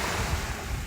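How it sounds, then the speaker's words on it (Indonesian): Ocean waves wash onto a quiet white sand beach on Bintan Island, a continuous roar of surf mixed with wind buffeting the microphone. "di mana ombak berbisik pada pasir putih yang sunyi"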